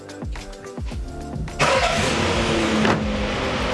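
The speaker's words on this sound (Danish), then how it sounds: "Og vi kan jo lige prøve at starte bilen en gang." A van engine cranks with several quick starter turns, then catches and settles into a steady idle, close and fairly loud.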